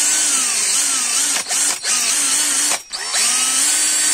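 A brushed power drill motor, freshly repaired, whines steadily at high speed, briefly dipping twice as the trigger eases, then spinning back up; no voices.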